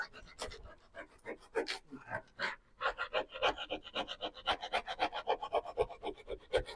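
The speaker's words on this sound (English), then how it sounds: "Give it a really good rub." Hard, vigorous rubbing over a model railway goods yard surface to distress it, giving a run of rapid, close rasping scrapes in an uneven rhythm with no talking.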